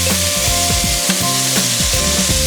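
Smash burger patties sizzle loudly on a hot griddle, with a few scraping flips of a spatula breaking through the steady frying hiss; no voices.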